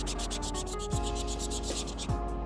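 A sanding block is dragged back and forth over a painted shoe midsole, scraping Angelus paint off in rapid, even rasping strokes, close and alone.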